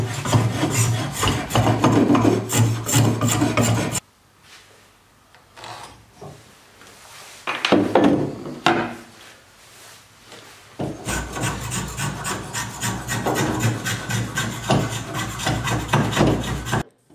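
Spokeshave shaping a wooden axe handle: steady rasping, rubbing wood strokes, loud and close, with a quieter pause in the middle before the shaving resumes.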